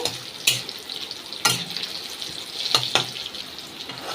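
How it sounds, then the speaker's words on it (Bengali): Bitter gourd pieces frying in a covered pan for a lentil dish, a steady soft sizzle with a few sharp stirring or lid clatters standing out above it. "উচ্ছেগুলো হালকা হালকা ভাজা হচ্ছে"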